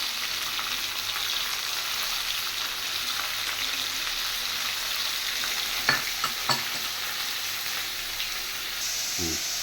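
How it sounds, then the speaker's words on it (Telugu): Onions, coriander, curry leaves and mint sizzle and fry in hot oil for a mutton liver curry, a steady bright hiss with a few stirring scrapes and clinks of a spoon near the end. "నేను ఇలా కొంచెం కలుపుకుంటున్నాను, ఆయిల్ అన్నిటికీ పట్టేటట్టు కొంచెం బ్రౌన్ అవ్వనిద్దాం."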